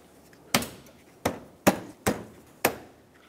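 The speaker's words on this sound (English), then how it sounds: "They're pretty stiff, so you have to give them a good hit and then do the same to the other side." Plastic bumper cover clips on a 2009-2013 Honda Fit being hit into place: five sharp, separate knocks spaced roughly half a second apart, close and fairly loud, with quiet between them.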